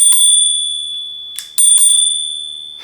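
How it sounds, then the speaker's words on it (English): A handlebar bell on a DYU C2 16-inch folding electric bike rings twice, each bright, clear ring sustaining and slowly fading, close and loud with no talking. "Reflector at the front, the ring bell."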